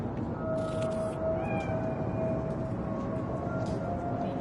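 A cat meows in the Cyberpunk video game, a few drawn-out tonal cries over a steady low ambient background hum, with no talking.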